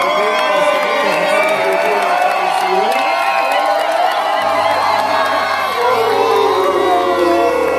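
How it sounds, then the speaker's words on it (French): A crowd at a wedding blessing in Paris bursts into loud, sustained cheering, whooping and shouting, the mass of voices filling the room without letup. "Est-ce qu'on peut acclamer?"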